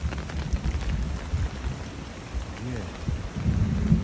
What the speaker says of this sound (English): The hard rain here fall.